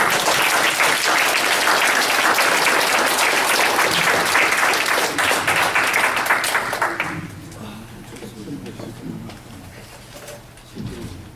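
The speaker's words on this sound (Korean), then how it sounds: "다시 한번 큰 박수." Loud audience applause fills a lecture hall at a talk about the pastor Moon Ik-hwan, sustained for about seven seconds before fading into scattered claps and faint murmuring.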